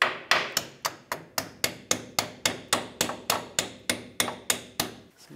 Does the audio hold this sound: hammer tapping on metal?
yes